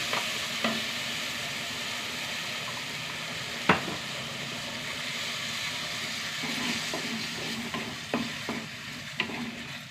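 Ground coconut paste, seasoned with a pinch of turmeric, goes into a hot pan and is stirred, giving a steady close sizzle with occasional scraping knocks from the spoon.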